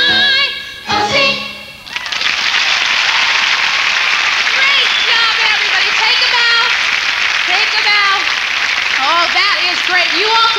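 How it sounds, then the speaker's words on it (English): A church audience applauds after a gospel song, loud sustained clapping filling the room while a voice talks and cheers over it. "Keep clapping for them."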